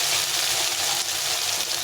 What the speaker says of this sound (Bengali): একটা ছোট টমেটো ভেজে নিচ্ছি